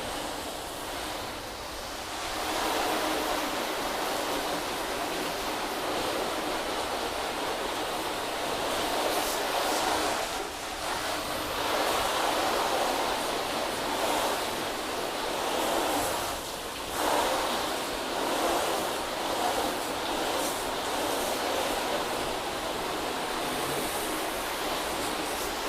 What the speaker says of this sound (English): Let's give it a quick rinse.